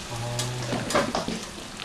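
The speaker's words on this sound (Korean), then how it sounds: "이게 웬만한 중국집에서는 이렇게 전분 앙금을 만들어가지고 이렇게 탕수육을 튀기거든요." Sweet and sour pork coated in starch batter deep-fries in hot oil in a Chinese restaurant kitchen, giving a steady close sizzle with stirring and clinking over it. A low hum is heard early on.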